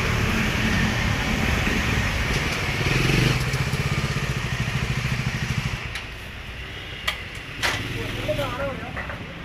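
Several BMW touring motorcycles ridden by tourists from Kerala idle and rumble together, a steady low engine drone throughout with a louder rev near three seconds, the sound easing after six seconds.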